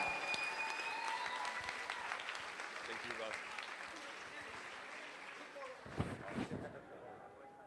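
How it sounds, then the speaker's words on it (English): Crowd applauding a fighter at an amateur MMA event, clapping loudest at first and gradually thinning out, with a few sharp sounds near the end and voices underneath. "Let's give her a round of applause."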